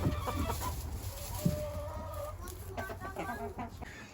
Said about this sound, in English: These are our pullets that were hatched in December.